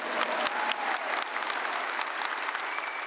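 A Mass congregation applauds the mothers, a full, sustained burst of many hands clapping together at an even loudness throughout.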